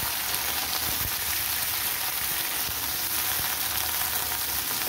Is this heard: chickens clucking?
no